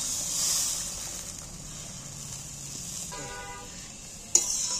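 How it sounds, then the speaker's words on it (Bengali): Water splashes into hot spiced oil in a pan for Bengali hilsa fish curry, giving a steady hiss of sizzling, with a sharp clank just before the end. "এইবার আমি সাইড দিয়ে জল দিয়ে দিচ্ছি।"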